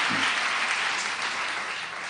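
A church congregation at a Full Gospel church applauds warmly, a dense, steady wash of clapping from many people filling the room throughout.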